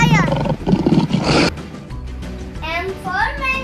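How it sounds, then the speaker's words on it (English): A lion's roar comes in loud, open bursts right up close, with a voice and other vocal sounds around it in an alphabet-learning setting. "L for lion."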